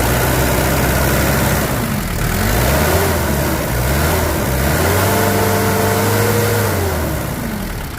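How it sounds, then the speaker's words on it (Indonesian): A 1985 Daihatsu Taft GT F70 engine runs close and loud in a steady idle, with a few rising and falling revs over eight seconds. "Mesinnya kempel banget pemirsa"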